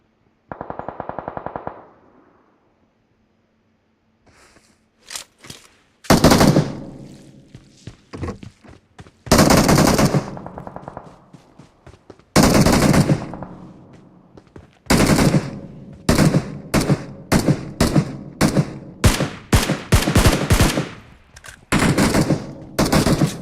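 An esports shooter video game match fires sprays of gunfire: rapid automatic bursts and single shots come in loud, clustered volleys separated by short gaps, with a few thuds mixed in.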